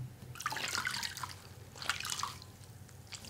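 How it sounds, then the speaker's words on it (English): Felted wool vessel soaking in a bath of water with a little vinegar gives off soft, close drips and light trickles in two small bursts, quiet and without talk. "Submerge your project with a couple of tablespoons of vinegar in it and let it sit for at least 15 minutes"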